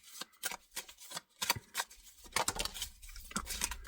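Tarot cards being shuffled by hand for a love reading, a quick series of soft riffling bursts and light card slaps close up, irregular and alone without any voice.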